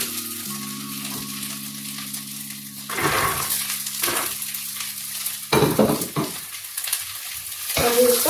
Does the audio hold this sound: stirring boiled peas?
yes